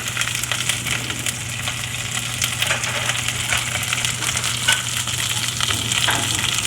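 Steady sizzling and frying in a pan, with intermittent scraping and crunching as crayfish are crushed and stirred with a wooden spoon.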